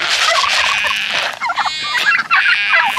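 Turkeys gobble loudly and repeatedly at close range at feeding time on a farm, their rapid rattling calls overlapping in quick bursts with no talk.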